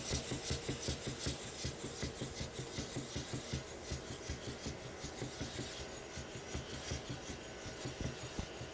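A straight razor is honed on a Hindostan natural whetstone with a 1200 slurry, giving a continuous gritty rasping and rubbing with rhythmic back-and-forth strokes, close and steady throughout without speech.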